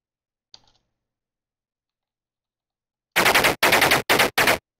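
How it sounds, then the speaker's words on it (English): Tank guns fire in the tank combat video game Armoured Commander: a faint click, then four loud, rapid bursts of gunfire in quick succession. "start firing everyone at this guy"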